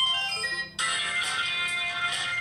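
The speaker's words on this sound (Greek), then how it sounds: "Ήχος κλήσεις τηλεφώνου, έχει διάφορες." A bright electronic ringtone preview plays from a Cubot X30 smartphone, a short melodic phrase that switches to a louder, busier tune partway through, heard close with no talking.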